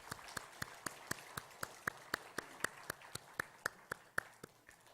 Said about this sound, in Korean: 우리 다시 한번 우리 청년대학을 위해서 격려의 박수하도록 하겠습니다